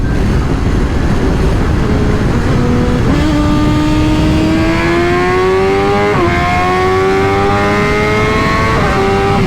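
A 2024 BMW M1000 XR motorcycle accelerating hard on a run, its engine note climbing steadily through several gear changes, loud and close with constant wind and road roar beneath.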